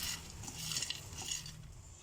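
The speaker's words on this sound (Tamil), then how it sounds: "இதையும் அதோடு சேர்த்து ஃப்ரை பண்ணிக்கோங்க." Pre-roasted peanuts and roasted gram frying in a pan for chutney, a soft continuous sizzle with light stirring and scraping, close and fairly quiet.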